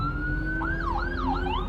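An ambulance siren wails nearby, its pitch sweeping up and down in a rising-falling pattern over steady traffic rumble.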